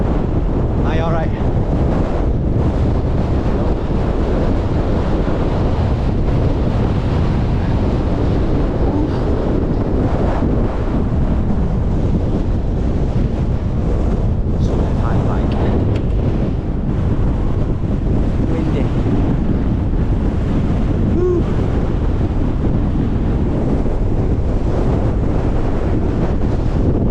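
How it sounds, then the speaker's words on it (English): Strong, steady wind roars and buffets across a hilltop summit on the Cumbria Way, loud and constant throughout with heavy rumbling gusts and no let-up. "Wind."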